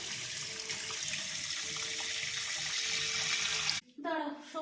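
Water from a kitchen tap runs steadily over raw chicken set to soak before cooking, a loud continuous gush that cuts off near the end, followed by brief faint sounds.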